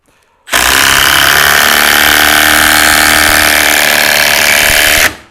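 A Milwaukee M18 BLIDRC cordless impact driver drives a Spax screw, starting abruptly into a loud, sustained rattling hammering whir that holds steady for about four and a half seconds before cutting off, close up and with no voices.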